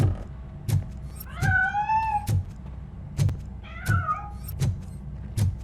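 A cat meows twice in the video game RoboCop: Rogue City, two clear mid-distance calls over a steady low background rumble with regular dull thuds.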